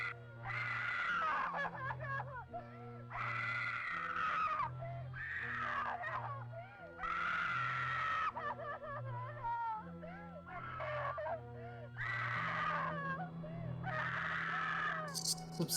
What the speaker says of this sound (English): Substantial amount of women screaming this stream tonight